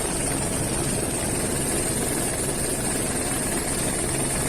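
A military police helicopter flies over the area, its rotor and engine drone loud and continuous, steady and close overhead with no talk.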